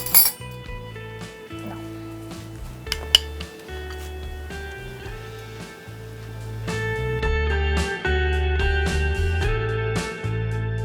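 A spoon clinks against dishes while serving chicken with spinach stalks, several sharp metallic clinks over a background of music.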